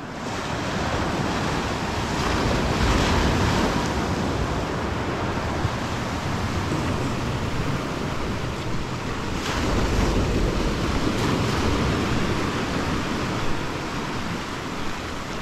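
Sea waves roll and break on a Turkish beach near Gazipaşa, a loud continuous wash of surf with periodic swells, mixed with wind buffeting the microphone.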